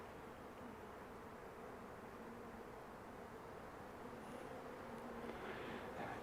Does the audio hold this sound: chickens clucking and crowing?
no